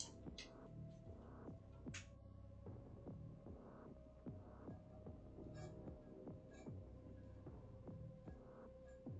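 An electric fan runs in a quiet room, giving a faint, low hum with a soft, regular throbbing pulse that repeats roughly every half second.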